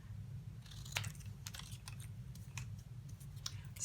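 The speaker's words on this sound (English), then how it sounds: "Just take your scissors and really just snip." Scissors snipping around a paper sticker, a quick run of small crisp cuts heard close and faint over a low steady hum, with no voices.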